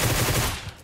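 A rapid spray of automatic gunfire in PUBG Mobile: a loud, dense burst of shots that tails off within a second.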